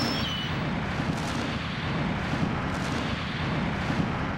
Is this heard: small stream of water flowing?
no